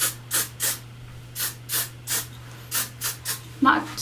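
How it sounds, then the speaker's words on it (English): Short bursts of hair finishing spray hiss out in a quick irregular rhythm, about ten puffs close to the mic over a low steady hum. "So I'm using my finishing spray."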